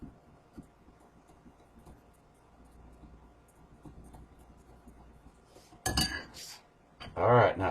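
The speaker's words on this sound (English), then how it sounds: "Whisk like there's no tomorrow." A whisk beats oil and batter mix in a bowl for hoe cakes, heard as a couple of short, scraping, clinking bursts near the end after a stretch of quiet kitchen background.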